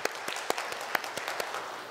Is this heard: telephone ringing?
no